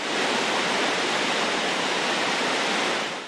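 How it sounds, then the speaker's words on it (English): Water pours over a hydroelectric dam spillway in a loud, unbroken roaring rush, full and steady for a few seconds before easing slightly at the end. "The water that doesn't flow over the spillway is stored in a reservoir behind the dam."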